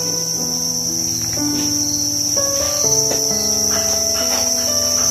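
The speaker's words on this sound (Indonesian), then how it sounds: "Jangkrik bos." Crickets chirp steadily and loudly close by, a dense, continuous trilling chorus with no voices present.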